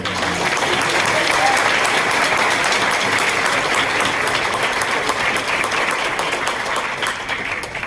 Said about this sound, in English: Clap it up more